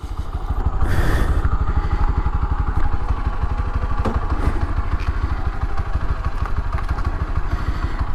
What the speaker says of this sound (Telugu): అలాగే ఇప్పుడు మన దిలీప్ దాన్ని బండి ఆన్ చేస్తాడు.